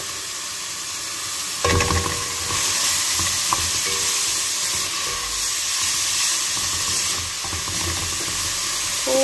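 Minced meat goes into a pasta sauce with chili sauce and is stirred in a pan, giving a sudden burst of sizzling followed by a steady hiss and occasional spoon scrapes, close up.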